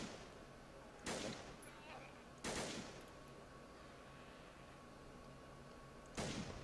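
Three loud gunshots in Arma 2 DayZ ring out a second or more apart, each with a sharp crack and trailing echo over a quiet ambient background.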